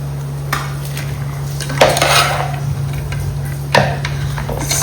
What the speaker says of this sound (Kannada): ಈಗ ಇದಕ್ಕೆ ನಾವು ಫ್ರೈ ಮಾಡಿಟ್ಟ ಈರುಳ್ಳಿ ಗೇರು ಬೀಜ ದ್ರಾಕ್ಷಿ ಎಲ್ಲವನ್ನು ಸೇರಿಸಿ ಮಿಕ್ಸ್ ಕೊಡುವ